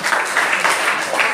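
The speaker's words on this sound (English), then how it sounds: "Big round of applause to him." A school audience of ninth-class students and guests claps for a student after his turn on stage, a short burst of lively, uneven applause at close range, fairly loud, without speech.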